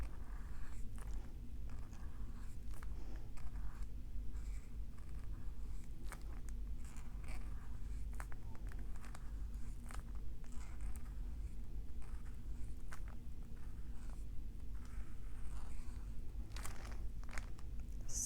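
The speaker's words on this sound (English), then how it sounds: "It's kind of awkward writing at this angle." Pen strokes scratching across the pages of a Hobonichi A5 notebook, a steady run of soft close-up scribbles and small taps over a low constant background hum.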